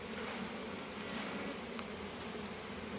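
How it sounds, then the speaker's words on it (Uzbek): Honeybees shaken off a brood frame fill the air with a continuous, even buzzing hum, close and moderately loud, no voices. "mana bu urug'li romni arilarini silkib tushiramiz"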